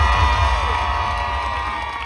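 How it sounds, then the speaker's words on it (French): Cheering and whooping from a crowd at a live U15 final at La Villette as the second finalist is introduced, continuous and fairly loud, slowly easing off. "De l'autre côté, Anaconda, que je vous demande d'applaudir bien fort."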